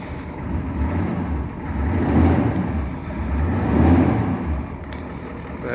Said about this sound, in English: she's got a nice sound to her whenever she's going down the road. That is a Banks 3-inch aftermarket exhaust.